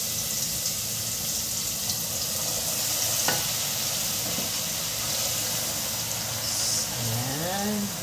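Garlic frying gently in oil for homemade chili garlic oil, a steady close sizzle with stirring scrapes throughout and a brief voice-like pitch sweep near the end.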